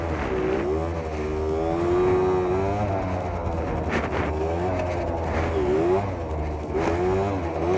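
A 50cc scooter drifts using the rear brake, its small engine revving and wavering up and down nearby while someone talks over it throughout.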